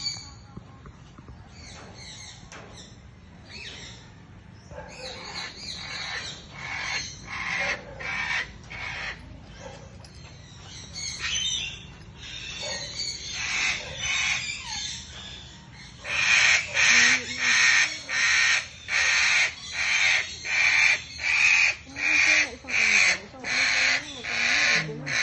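A bird at a zoo in Tanay, Rizal gives loud repeated honking calls, sparse at first and then a rapid rhythmic series of strong pulses near the end, with people talking faintly in the background.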